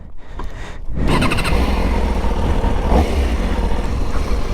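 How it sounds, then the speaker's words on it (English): A motorcycle engine starts with a short whirring crank, then catches at about one second and settles into a loud, steady idle rumble close by with a slight rise in revs near the three-second mark. "Let's go ahead and start the bike up."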